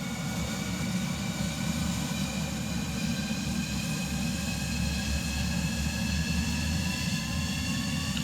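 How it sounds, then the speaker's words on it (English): A jet engine in Microsoft Flight Simulator lights off, a steady, loud roar with a rising whine layered over broadband rumble, continuous throughout with no talking. "as soon as our APU stops doing its thing and the engine actually lights off, which is about to happen right now"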